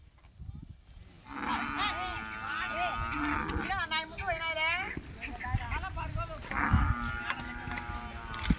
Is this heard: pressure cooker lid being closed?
no